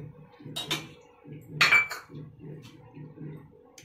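Ice cubes drop into a glass of milk for a mango shake, a few bright clinks and clatters standing out over a low rhythmic background hum, close and fairly quiet.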